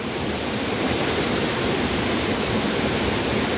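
River water flowing past a riverbank, a steady, dense rushing hiss that holds constant throughout with no voices.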